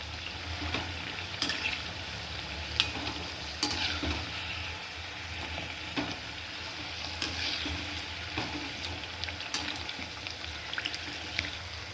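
Hot oil sizzles and crackles steadily as farsi puri deep-fry until golden brown, with small pops scattered throughout, close and fairly quiet, no voices.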